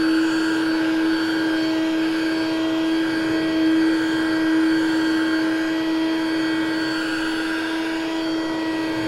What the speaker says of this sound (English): I'm going to scrub that cleaner into the carpet, make sure I'm getting up all that sugar and stuff